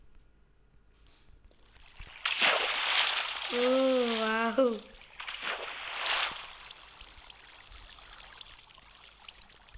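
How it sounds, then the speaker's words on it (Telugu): A player swims through a flooded house in Minecraft, with two bursts of splashing, sloshing water strokes heard close up while a voice exclaims briefly between them. "స్విమ్మింగ్ చేస్తాను."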